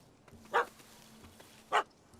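A dog barks at a cat in the video game The Witcher 3: two sharp, separate barks about a second apart over a faint, steady background hum, with no one talking.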